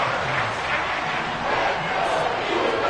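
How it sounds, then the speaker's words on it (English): A football stadium crowd roars continuously, a loud dense wall of cheering and yelling during a key defensive play on third down. "This crowd turning up the decibel level."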